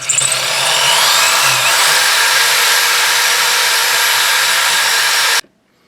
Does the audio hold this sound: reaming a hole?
yes